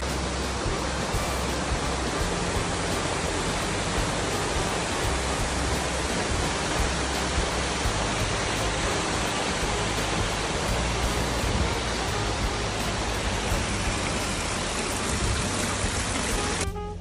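A waterfall in Oregon roars as a loud, steady, broadband rush that goes on with no break. Nothing else can be heard over it.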